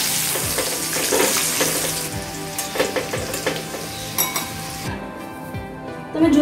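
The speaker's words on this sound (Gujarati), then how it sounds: "આપણે સહેજ એને ફટાફટ હલાવી લઈએ આપણા દાણા સરસ ફ્રાય થઈ રહ્યા છે" Corn kernels frying in hot oil for a crispy corn snack, a steady loud sizzle with scraping stirs and occasional clinks of a utensil against the pan.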